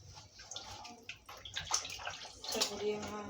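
Water from a tap pours into a pot while couscous is being prepared with vegetables and squash, a close, splashing, rising rush that swells and fills toward the end.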